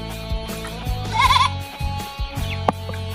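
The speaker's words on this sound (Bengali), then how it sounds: "ওরে ছাগল এই তো সব" A goat bleats up close in a village setting, with one clear wavering cry in the middle and a few shorter, fainter bleats around it.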